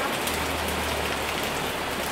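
Rain falls steadily as a dense, even hiss of drops hitting surfaces, continuous and fairly loud with no voices over it.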